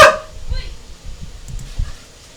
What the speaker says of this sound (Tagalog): Sensya na po sa aso, meron kasing mga pusang nag-aaway sa labas.